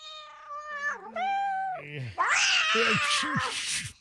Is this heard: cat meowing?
yes